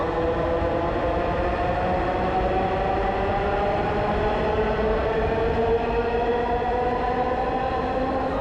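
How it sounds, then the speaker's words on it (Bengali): A Dhaka metro train departing a station rumbles steadily and loudly, its tonal whine shifting in pitch as it pulls away, with a continuous rolling roar and no talking. "ট্রেনটি বিদায় নিল।"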